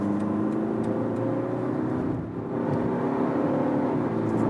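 Rear-wheel drive car with a 2-liter four-cylinder diesel accelerating hard from 60 to 100 km/h, a steady loud engine drone rising in pitch, with a brief dip near the middle as it shifts gear.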